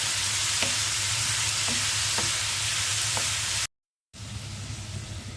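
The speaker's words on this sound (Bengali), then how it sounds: "করলাটা ভেজে নিচ্ছি।" Bitter gourd fries in a pan with a steady, close sizzle, broken by a few soft stirring clinks before a short gap, then the sizzle resumes.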